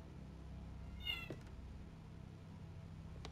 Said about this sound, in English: she was meowing outside my bedroom door